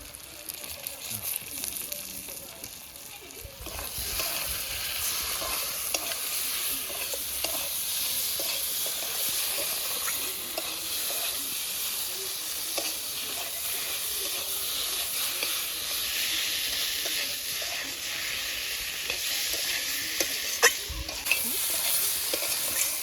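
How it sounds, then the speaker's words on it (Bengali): Spice paste of turmeric, chilli powder, ginger, garlic, onion and coriander paste fries in a pan for a fish curry, a steady close sizzle and hiss broken by scraping stirs throughout, with no talking. "মশলা কষে নিয়েছি আমরা ঝোলের জন্য জল দিয়ে দিন"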